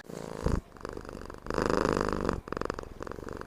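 A female cat purrs close up with a steady low rumble, swelling and fading in rhythmic breaths.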